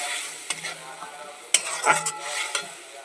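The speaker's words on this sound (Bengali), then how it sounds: "মশলাটা একটু ভালো করে কষিয়ে নেব।" Spice mix for fish curry frying and being stirred in a wok-style pan after soft tomatoes, with a steady sizzle broken by scraping spatula strokes and a few sharp clinks, close and moderately loud, no voices.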